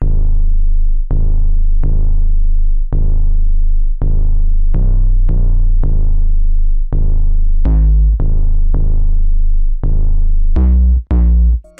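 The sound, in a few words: Shorty 808 bass following melody root notes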